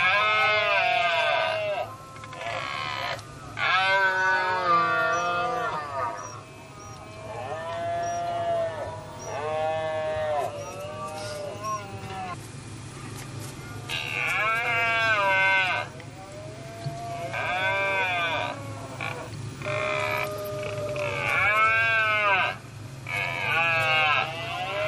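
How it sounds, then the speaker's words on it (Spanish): Red deer stags bellow during the autumn rut in the dense deciduous forests of the Picos de Europa, late September, with repeated loud, drawn-out moaning roars overlapping one another against a steady low background. "Es la berrea del venado"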